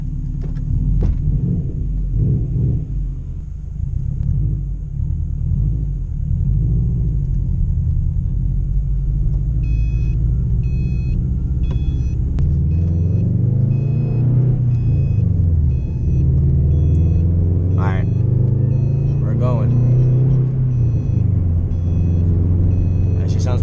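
A loud Subaru WRX engine and exhaust rumble deeply while warming up, then swell and surge as the car pulls out, with voices talking inside the cabin.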